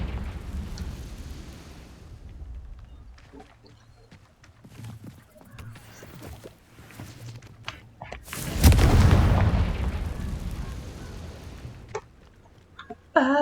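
A Confringo blasting spell detonating in Hogwarts Legacy: a burst of loud rumbling explosion rises out of quieter game sounds with scattered thumps, then fades into a low tail.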